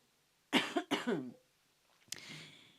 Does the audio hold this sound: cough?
yes